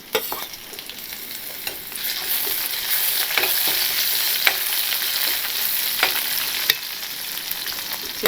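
Chopped shallots and a finely cut green chili sauté in hot oil for a tamarind curry. A steady loud sizzle runs under frequent stirring scrapes, with no talking.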